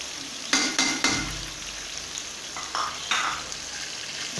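A spoon stirs tomato masala for chicken dal gosht as it fries in a pan, giving a soft sizzle under several sharp scrapes and clacks of the spoon on the pan close by, without speech.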